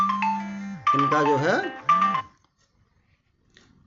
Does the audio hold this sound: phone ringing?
yes